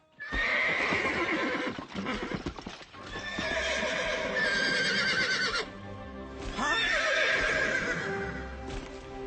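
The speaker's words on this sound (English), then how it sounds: "That's Pegasus, the winged horse of the gods." Pegasus, the winged horse of the gods in a cartoon, neighs in long shrill whinnies over clip-clopping hooves, loud and close, repeating several times across the stretch.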